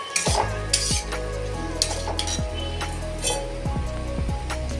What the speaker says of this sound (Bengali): সবগুলো দিয়ে আমি খুব সুন্দর করে নাড়াচাড়া করে নেবো কিছুক্ষণ ধরে